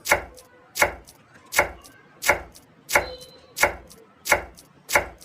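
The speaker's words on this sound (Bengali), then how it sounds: "চলো এবার প্রথমে ধনিয়া পাতাটা কেটে নিই আরও ছোট ছোট করে কুচিয়ে নেবো" Kitchen knife chopping coriander leaves on a board, a steady series of about nine sharp, even knocks roughly every 0.7 seconds, close and clear with no talking.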